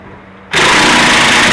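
A power tool suddenly whirs up loud and continuous while removing a worn lug nut from a Mazda Miata wheel, after a brief quiet moment.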